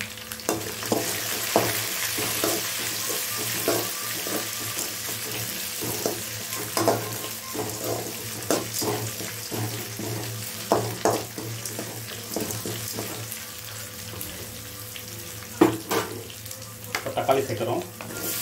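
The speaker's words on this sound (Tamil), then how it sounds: "இஞ್சி பூண்டு நல்லா வதங்கிட்டு இப்போ தக்காளி சேர்க்கலாம்." Ginger, garlic and green chillies sauté in a pan with a soft steady sizzle, punctuated by frequent scraping stir strokes and clinks, plus a trickle of water from a nearby tap, for a tomato rice dish.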